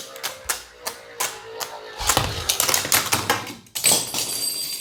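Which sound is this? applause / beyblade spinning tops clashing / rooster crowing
beyblade spinning tops clashing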